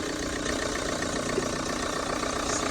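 A Volvo V50 R Design engine idles steadily nearby, a constant low rumble with a faint rhythmic mechanical ticking and no voices.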